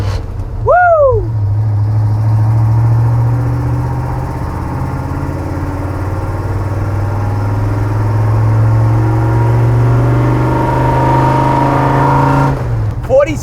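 A 1965 Ford F-250 truck engine revs and pulls hard in third gear, a loud steady drone that holds for most of the stretch, with a brief whine at the start and a shift near the end.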